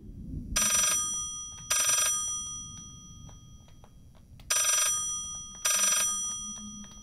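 Telephone ringing in the horror video game Layers of Fear, played in VR: four loud, bright electronic ring bursts in two pairs over a low, murky ambient hum.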